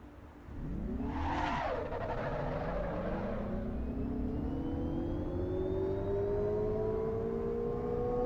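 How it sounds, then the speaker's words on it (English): An Alpine A290E electric car in a racing video game whirs as it accelerates, a rising electric motor whine swelling steadily over a low rumble, close and continuous with no one talking. "It's an Alpine A290E, so it's an electric car."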